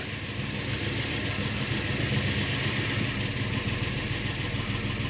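An abandoned Subaru car's engine runs steadily at idle, a loud, constant, close rumble with no breaks or speech over it.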